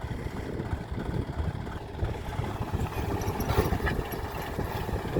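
A tractor engine runs steadily on a farm field during groundnut sowing, giving a continuous low, throbbing rumble at moderate distance with no voices.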